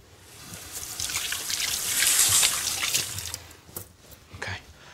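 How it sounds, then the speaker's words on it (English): A kitchen tap runs while hands are washed during cooking, a close, continuous splash of water that swells in the middle and then breaks into uneven trickles. "Wash my hands."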